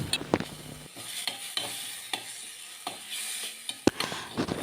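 Onion and tomato paste are sautéed on a low flame for a curry, with a soft steady sizzle broken by several sharp spatula scrapes against the pan, close and fairly quiet.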